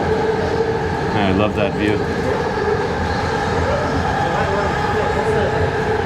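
A train rumbles steadily through a station, a loud continuous roar of wheels and carriages with a few brief squeal-like tones, while someone speaks over it.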